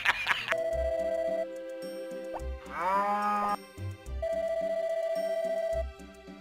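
Game cow from Harvest Moon Back to Nature letting out a drawn-out synthetic moo midway, set between repeating electronic beeping tones and soft bouncy background music.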